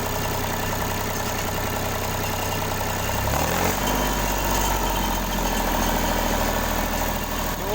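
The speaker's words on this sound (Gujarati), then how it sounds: "અમે ટ્રેક્ટર ચલાવી રહ્યા છીએ અત્યારે, એક ખેતરમાંથી બીજા ખેતરમાં જઈ રહ્યા છીએ." A farm tractor's engine drones steadily as it drives between fields, the rumble shifting in pitch and growing slightly louder partway through, with no talking.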